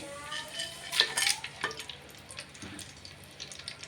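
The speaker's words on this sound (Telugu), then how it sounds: "ఇలా వేగుతున్నాయండి" Whole spices fry in oil in a clay pot on a stove, giving a soft, faint sizzle with a few clinks and stirring scrapes against the pot early on.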